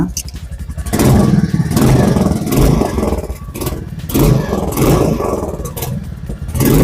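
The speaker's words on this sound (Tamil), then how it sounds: "இந்த வண்டியோட எக்ஸாஸ்ட் சவுண்டு கேளுங்க" Royal Enfield Meteor 350 cruiser motorcycle exhaust, close by: a deep, steady thumping rumble that swells and eases as the revs rise and fall, with no talking.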